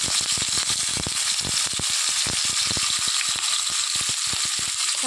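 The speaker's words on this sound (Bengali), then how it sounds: "তেল গরম হয়ে গিয়েছে, মাছের পিস দুটো দিয়ে দেব" Pieces of hilsa fish frying in hot mustard oil, a dense, steady sizzle with rapid crackling pops throughout, close and alone.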